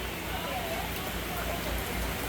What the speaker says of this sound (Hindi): देख रहे हो कितनी तेज बारिश है।